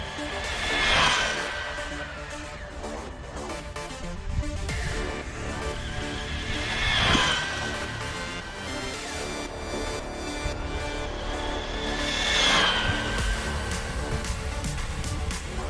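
A WLtoys 144010 RC car drives fast along a wide two-lane road. It makes three rising and falling whines as it speeds past nearby, with quieter motor hum between the passes and no talking.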